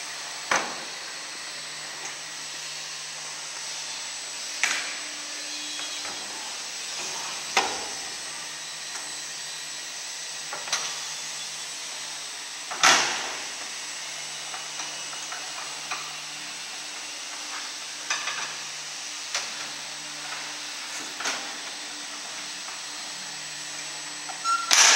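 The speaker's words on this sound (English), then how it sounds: "The chain takes it away through the first bank of blades, cuts it in one plane." A toffee and fudge tandem cutter machine hums steadily while a chain carries the slab through banks of blades. Sharp mechanical clacks punctuate the hum every few seconds.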